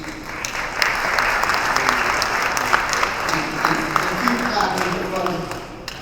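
A crowd claps in loud, continuous applause at a high school hall of fame ceremony, dense and steady from start to finish, with no talking over it.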